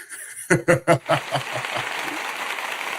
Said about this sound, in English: There's the applause that I was looking for